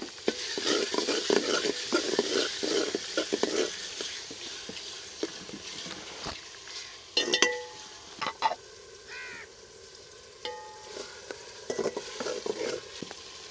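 Finely chopped green chillies sizzle in hot oil while a spoon stirs them through aloo palak, giving a steady fry with repeated scraping strokes. Crows caw faintly in the background.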